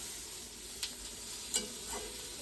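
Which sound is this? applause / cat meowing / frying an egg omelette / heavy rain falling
frying an egg omelette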